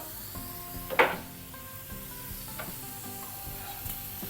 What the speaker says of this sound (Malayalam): എല്ലാം കൂടെ നല്ലതൊന്ന് മിക്സ് ചെയ്തിട്ട് അതങ്ങ് അടച്ചിടേ